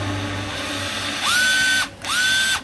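A Japanese cordless drill runs in reverse in two short bursts, each rising to a high mechanical whine and then cutting off, loud and close.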